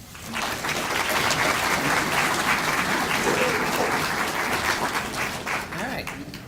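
An audience applauds to welcome a doctor onto the stage before an evening talk on trauma, giving sustained, dense clapping from a full crowd that holds steady for several seconds and then begins to thin.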